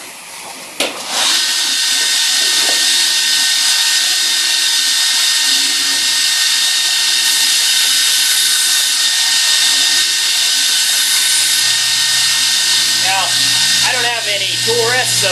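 A loud horizontal shop machine runs steadily for the whole stretch while edges are chamfered, a sustained high-pitched whine with a brief knock near the start. A faint voice comes through under the noise near the end.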